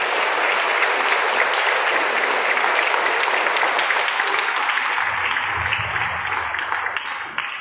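A congregation at a priest's ordination anniversary Mass applauds the priests and deacons: sustained, dense clapping from a large crowd, steady and loud throughout, with a low rumble creeping in near the end.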